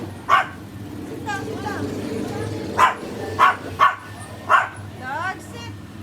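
A dog on a house terrace gives several sharp, loud barks and yips spaced across a few seconds, with whimpering between them, while a person repeatedly speaks commands.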